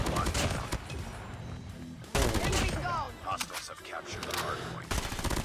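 Rapid gunfire from an OTs-9 submachine gun in the mobile shooter Call of Duty Mobile, loud dense bursts with brief pauses between volleys, layered with game effects.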